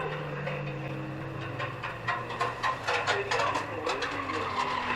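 Race cars lap Standlake Arena in a short-oval race, engines roaring and tyres scrubbing as a pack passes, with rising and falling revs and surges of noise under a steady background drone.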